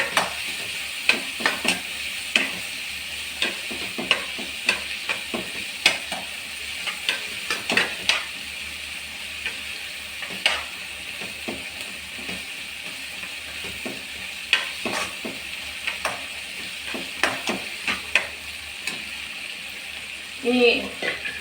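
Spiced pepper chicken masala is stirred in a pan, the steady sizzle punctuated by frequent scraping and tapping strokes of a spoon, with a clatter near the end.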